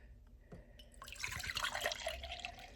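Beef broth pours into a dish for a Sunday roast, a splashy liquid trickle that starts after a couple of light knocks and keeps flowing steadily to the end, close and fairly quiet with no speech.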